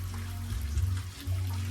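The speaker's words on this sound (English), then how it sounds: "chuck some water on it." Water poured for hand washing near an abandoned village at the base of Sinabung, Indonesia, splashes and gushes in short uneven surges, close and moderately loud, with no talking.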